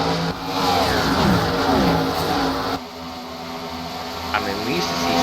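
Race cars roar past at the Indianapolis Brickyard 400, their engines rising and falling as they pass, loud and continuous under a commentator's talk.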